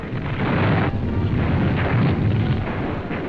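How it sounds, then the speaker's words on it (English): Rocket-firing Typhoon aircraft strike German positions in a wartime bombardment, heard as a continuous rumble of heavy explosions and booms with several swelling bursts, loud and dense, with no talking. "They blast with explosives at point-blank range."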